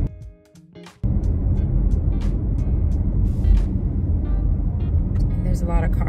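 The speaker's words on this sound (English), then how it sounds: "there's a lot of cars coming this way" Steady roar of rush-hour road traffic with cars passing close by, continuous and fairly loud after a brief quieter start, with a person talking over it.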